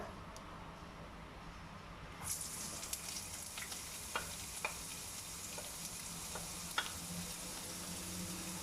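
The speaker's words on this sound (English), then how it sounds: "When the oil is hot, we add in young ginger." Young ginger dropped into hot oil, the sizzle starting abruptly and then holding as a steady crackling fry, broken by scattered ticks and stirring clinks, fairly faint.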